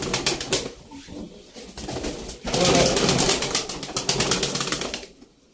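White pigeons cooing close by in a loft, overlapping soft throaty coos that run continuously with a louder, denser stretch in the middle and some faint wing rustling.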